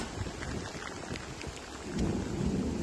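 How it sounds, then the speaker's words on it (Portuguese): Steady rain pours at an outdoor rodeo, with thunder rumbling in low swells that build toward the end, with no voices. "Pouca chuva, hein, Natasha?"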